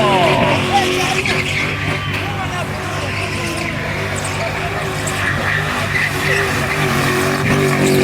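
A BMW fitted with a Lexus engine speeds past with loud, sweeping engine roar and what sounds like tire squeal. Busy, uneven motion noise fills the whole stretch, and voices call out over it.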